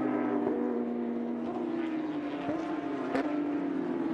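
Porsche GT3 Cup race car at Barber Motorsport Park, its engine holding a steady, smooth tone under even throttle with no spikes or wheel spin, loud and continuous throughout.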